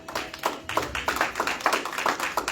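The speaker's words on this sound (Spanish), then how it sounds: "Haga un aplauso al Señor" A church congregation claps in a quick, steady rhythm, a run of sharp, evenly spaced hand claps carrying through the room at moderate volume.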